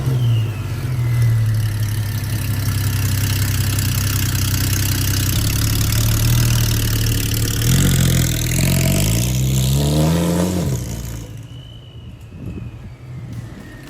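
A tuned Porsche engine drones steadily, then revs up in several rising bursts before cutting back to a quieter idle.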